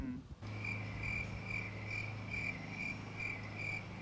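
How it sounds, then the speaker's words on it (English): Crickets chirp in a steady, pulsing rhythm as a night-time sound effect, close and continuous after a brief opening moment, with repeated evenly spaced trills and no talking. "put crickets chirping in the background like,"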